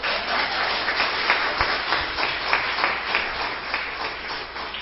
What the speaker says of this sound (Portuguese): Aplaude um homem desse aí, gente.